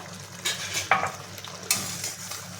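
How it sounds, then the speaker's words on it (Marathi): Roasted semolina is stirred with a spoon in a pan with ghee, giving soft scraping strokes over a low sizzling fry, close and steady with no talk. "इथे कंटिन्यू आपल्याला हलवत राहायचं आहे"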